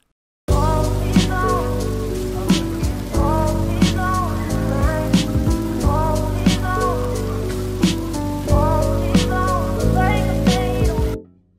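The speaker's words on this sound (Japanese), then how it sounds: "今回は都会の喧騒と雨音の環境を入れてみます。" Rain and city bustle ambience for a lo-fi hip hop track, steady rain noise running throughout under a looping beat with recurring soft clicks and hits.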